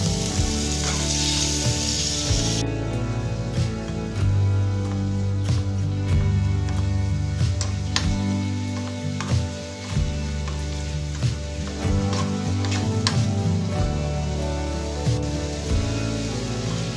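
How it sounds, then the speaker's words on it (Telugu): Tomato pieces sizzle and fry steadily in a pan for a chutney with curry leaves, a continuous loud crackling hiss, with no talk. "ఈ టమాటో ముక్కల్ని బాగా మగ్గనివ్వాలి."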